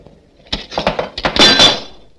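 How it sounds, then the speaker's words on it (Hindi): Glass shattering indoors in a Hindi film scene: a cluster of sharp crashes and tinkling shards over about a second, loud and close, with no talk. "शीशा टूट चुका है।"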